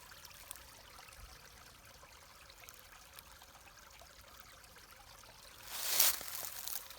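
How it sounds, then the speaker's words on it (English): A small stream and little waterfall trickle faintly and steadily in a quiet wooded clearing on a ranch, with a brief louder rush of noise near the end. "It's quiet, and you can maybe hear the stream."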